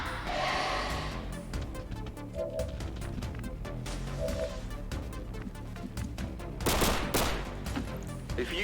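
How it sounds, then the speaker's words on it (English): Gunfire in the XCOM video game, dense rattling bursts and single cracks over a layered game soundscape, with a heavier blast late in the sequence. "Nice shooting, Texas Red"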